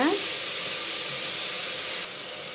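Vegetables sautéing in a pan for a Tamil vegetable rice dish, a steady loud sizzle and hiss running unbroken throughout, dropping slightly in level near the end.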